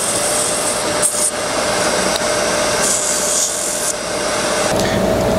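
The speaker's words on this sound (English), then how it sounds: "I got some 600 grit sandpaper I'll finish this up with." Continuous scratchy rubbing as 600 grit sandpaper works a turned box elder wood lid on a lathe, close and steady, with a faint whine running underneath.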